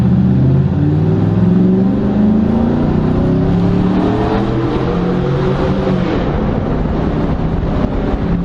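A car fitted with a stainless-steel Corsa DB exhaust revs loudly and close by, its note rising and falling through the RPM range while wind buffets the microphone.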